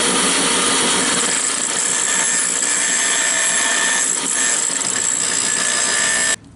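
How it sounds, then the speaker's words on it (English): A big grinder bites into a steel trigger guard held in vice grips, producing a loud, continuous high-pitched whine that runs steadily, then cuts off abruptly at the end. "We're going to start with a big grinder over here."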